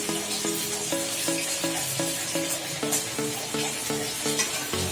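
Oil and ghee with cardamom in a kadai, giving a steady, loud close sizzle with a faint repeating tonal hum underneath and no speech.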